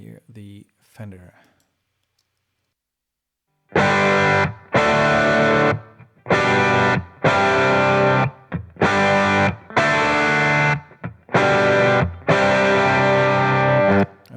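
Electric guitar played through a Fender amplifier, a brief murmur of talk, then silence, then loud distorted strummed chords in choppy, evenly spaced bursts with short breaks between them.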